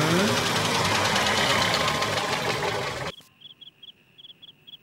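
A car engine roars loudly and steadily for about three seconds, then cuts off abruptly, leaving faint chirping in a quiet scene.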